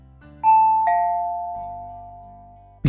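A doorbell rings once with a two-tone ding-dong chime that rings out and slowly fades, followed by a sharp click at the end.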